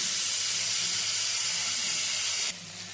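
Spiced broccoli frying in mustard oil gives a loud, even sizzling hiss that cuts down sharply near the end to a quieter crackle.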